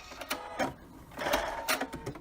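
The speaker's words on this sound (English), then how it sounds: "I'm going to just do a little back stitch to lock that in" A sewing machine makes short bursts of back stitching on a pillow seam made from a shirt, close and distinct, with brief pauses between runs.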